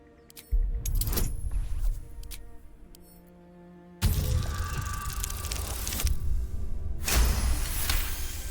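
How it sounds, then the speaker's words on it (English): Keys jangling and metallic mechanism clicks in Baldur's Gate 3, a few separate rattling bursts with short quiet gaps between them, close and fairly loud. "Hang on while I find the key."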